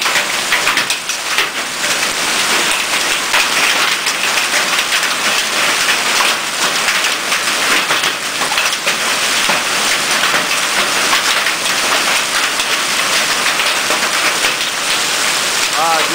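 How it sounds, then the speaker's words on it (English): Dense, loud pattering of ping-pong-ball-sized hailstones striking surfaces, a constant clattering roar without pause. "Just saw some ping pong ball sized hail come down."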